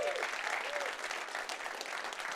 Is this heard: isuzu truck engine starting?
no